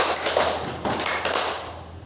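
Children in an elementary school classroom clap in a counted hand-clapping exercise, a few soft, distinct claps spaced across a couple of seconds, fairly close, with no talking over them.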